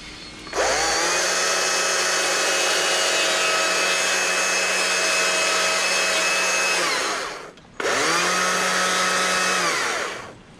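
A chainsaw carving a simple wooden bear roars at full throttle for several seconds, pitch steady while cutting, drops briefly to idle, then revs up again before winding down; loud and close.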